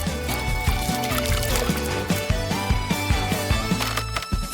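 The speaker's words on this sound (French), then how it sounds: "Il suffit aussi d'ajouter de l'eau." Water is poured into a homemade fish bowl, giving a close, bubbling trickle and splashing pour over a loud, rhythmic background of music.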